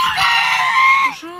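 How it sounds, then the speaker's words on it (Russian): A goose gives a loud, drawn-out, nasal honk close by, ending in a short lower note. "Это гуси, но мне кажется, у них такие звуки, как будто они скучают по ком-то."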